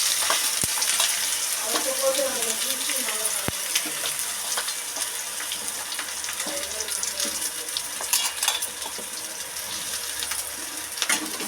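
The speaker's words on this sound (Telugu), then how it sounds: "ఇప్పుడు మొత్తం బాగా కలుపుకోవాలి. అంత ఆయిల్ అన్నిటికీ కలిసే విధంగా కలుపుకోవాలండి." Raw banana pieces sizzle steadily in hot oil in a home kitchen pan, with repeated scraping and stirring strokes and a few sharp clinks over a continuous frying hiss.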